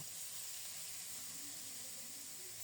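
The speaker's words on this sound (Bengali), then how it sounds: "গরম তেলে ছেড়ে দিলাম এপিট ওপিট করে লাল লাল করে ভেজে নেব" Rohu fish pieces seasoned with salt and turmeric frying in hot oil, a steady faint hiss of sizzling that holds evenly throughout with no voices.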